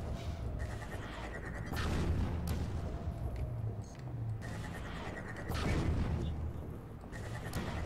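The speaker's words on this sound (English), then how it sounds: "I'm hearing non-stop explosions." Repeated deep booms and rumbling blasts in the Half-Life 2 video game, rolling in waves with crackling debris, fairly continuous and moderately loud with no talk.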